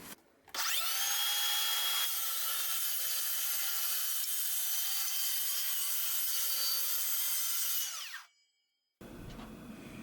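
A power saw cuts 1/4-inch plywood pieces in a workshop, running loud and continuous for about eight seconds with a steady high whine, then spinning down and stopping.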